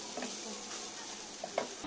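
Egg and minced meat fry quietly in a pan with a soft steady sizzle and occasional faint stirring clicks, heard close but at low volume.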